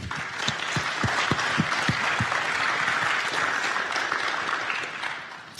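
A large audience at a business round-table event applauds loudly and steadily, with a few distinct heavy claps near the start standing out from the dense clapping, sustained throughout.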